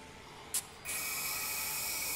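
A spray weapon fires in the Dead Rising 4 video game, a short burst followed by a steady, bright, continuous hiss that sustains to the end.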